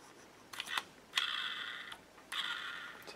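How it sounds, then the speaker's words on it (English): The small geared motors of a Helicute H818HW RC quadcopter spin up close by in short whirring bursts, then in two longer high-pitched whines separated by a pause. "You can see the gears turning in there."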